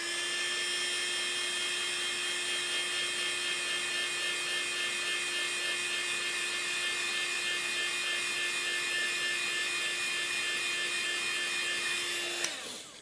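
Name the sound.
heat gun blowing on 3D printed diecast truck accessories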